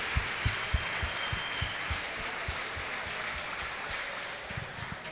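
Crowd applause at the awards ceremony of a Spanish spearfishing championship, a soft continuous wash of clapping with occasional low thumps mixed in.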